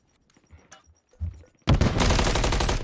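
Automatic gunfire erupts in a competitive shooter match, loud and sustained. Scattered softer thumps and shuffles come first, then a sharp rapid burst of shots runs to the end.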